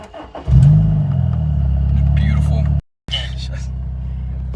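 A modified Honda S2000 engine cranks and fires up with a deep rumble, settling into a loud idle, briefly cut off before resuming.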